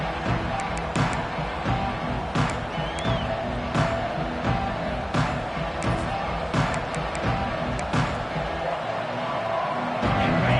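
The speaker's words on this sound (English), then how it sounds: "this home crowd is fired up and ready to make a difference today" Home crowd at a college football playoff game, a dense roar of cheering with sharp claps and thumps throughout, under a commentator's voice.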